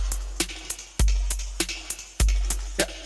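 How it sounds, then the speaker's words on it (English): A short drum loop sample plays alone at a raised level: strong kick thumps repeat about every 1.2 seconds, with sharp snare and hat hits between them in a steady groove. "So we got a little drum loop here"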